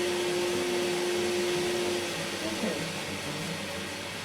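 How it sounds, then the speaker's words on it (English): A vacuum cleaner runs at a steady close-up drone with a sustained whine, holding an even level across the whole stretch without pauses during work on a camp door installation. "turn off the vac"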